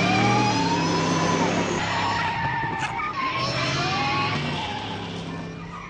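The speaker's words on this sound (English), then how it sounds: "Not me! The car! The car!" A car in a Back to the Future video game skids with a loud, sustained tire squeal that wavers in pitch over engine roar for several seconds, with no talk.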